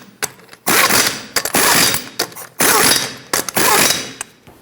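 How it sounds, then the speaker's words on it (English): Torque wrench or ratchet tightening wheel lug nuts on a Nissan Altima, four loud, close bursts of fast clicking, each run ending abruptly before the next begins. "in a cross pattern we're going to torque them to 83 foot-pounds"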